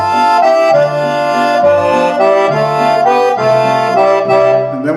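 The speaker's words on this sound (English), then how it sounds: "So here's dry tuning for the accordion." Roland 8x digital accordion on a dry tuning with no outboard effects, playing a loud, continuous reedy melody with bass notes changing underneath, alone and close.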